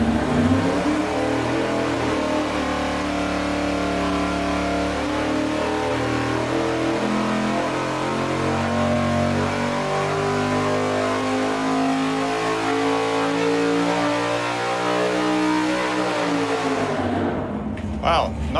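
A 478 cubic inch big block Chevy V8 with long connecting rods roars at full throttle on an engine dyno, its deep steady note climbing in pitch for a long sustained pull before cutting off abruptly near the end.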